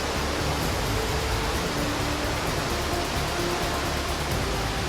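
River rapids rush inside Hang Son Doong cave in Vietnam, a dense, steady roar of churning water that holds at a constant loud level from start to finish.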